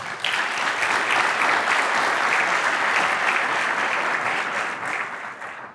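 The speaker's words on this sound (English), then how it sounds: "please join me in a quick round of applause for our sponsors" An audience at a construction industry summit opening gives sponsors a steady, dense round of applause, close and full, holding evenly before thinning out at the end.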